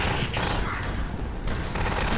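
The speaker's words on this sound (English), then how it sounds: "I want to hit the nuclear bomb with my shotgun" Rapid shotgun gunfire in the video game Alien Swarm, a dense, loud barrage of overlapping blasts filling the whole short stretch with no pause.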